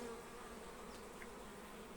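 Quiet, continuous buzzing of bees flying around in the air, distant and soft, with no voices.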